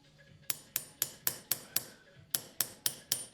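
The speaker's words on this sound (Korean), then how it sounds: "그저 손 감각으로 망치를 두들겨 댄다." A metalworker hand-hammers copper, tin or silver wares on Kazandžiluk street in Sarajevo, striking about eleven crisp, ringing blows in a steady rhythm, loud and close.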